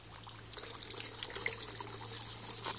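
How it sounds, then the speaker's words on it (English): A forest stream trickles and pours through a pipe, with soft splashing and bright dribbling bubbles over a faint steady hum, heard fairly quietly and without any talk. "So we are here near the stream in the forest."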